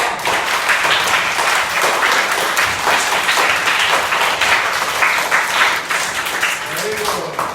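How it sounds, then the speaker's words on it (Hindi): Children clap for themselves at a good-touch-bad-touch session at the Rahul Sanskrityayan Library, a dense, steady burst of applause that fills the room for several seconds. "तुम सभी लोग मिलकर अपने लिए ताली बजाओ मेरे साथ।"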